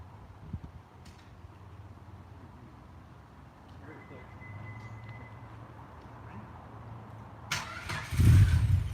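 A rebuilt car engine cranks quietly for several seconds under a low, droning churn, then fires near the end with a sudden loud burst, close by and without audible talk.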